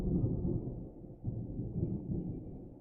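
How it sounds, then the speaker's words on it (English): Loud, low rolling thunder rumbling steadily for a few seconds, heavy and continuous with a brief dip in the middle. "Thunder, goodness."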